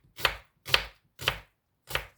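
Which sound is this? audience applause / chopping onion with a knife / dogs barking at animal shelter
chopping onion with a knife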